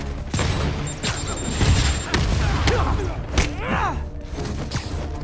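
Dense game combat in Marvel's Spider-Man, with enemies firing rifles and rockets in rapid, overlapping bursts, thuds and booms over a constant loud din, plus a few brief synthetic sweeps.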